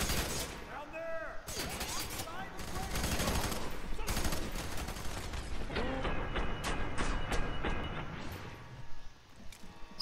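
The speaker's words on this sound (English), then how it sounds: "Stop shooting me, bro." Rapid bursts of automatic gunfire and sharp single shots from the video game Fear 3 crackle throughout at close range, mixed with mechanical clanks, while someone speaks over the shooting.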